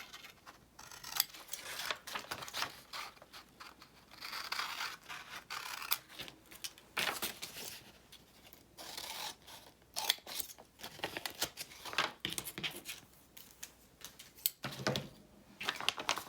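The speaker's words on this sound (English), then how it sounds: "We're going to cut the 4 outside corners out." Scissors snip through paper envelope corners in a quiet room, a series of short, soft cuts and rustles spread irregularly over several seconds, faint and close with no talking.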